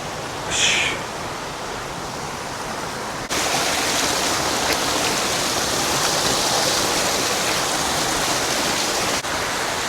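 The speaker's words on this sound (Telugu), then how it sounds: "ఏంది ఇది? ఆ వాటర్ ఫాల్." A waterfall on a hiking trail near Nuwara Eliya in Sri Lanka gives a steady broad rush of falling water that grows louder partway through and then holds, continuous and fairly near, with no talk.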